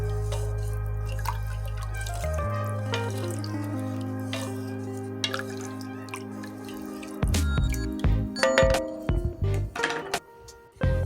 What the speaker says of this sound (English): And now you can add in your 4 cups of beef broth.